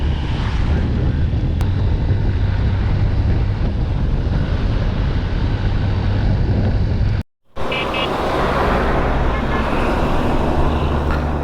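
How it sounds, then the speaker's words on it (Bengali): Continuous road traffic on a busy highway from Khulna to Dhaka after Eid, many buses rushing past, heard as a steady loud roar of engines and rolling wheels with a brief cut midway. "গাড়ি আর গাড়ি, বাসের সংখ্যাই বেশি"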